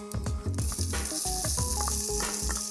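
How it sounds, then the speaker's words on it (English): Chili flakes and cumin sizzle loudly in hot oil, a steady crackling hiss with popping bursts close to the pan. "That's the sizzle that we're looking for."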